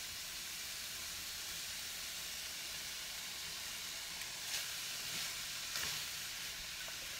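Chile added to a pan of liver and onion stew, a steady soft sizzle and hiss of frying with light steam, faint throughout with a few brief stirring clicks toward the end and no talking.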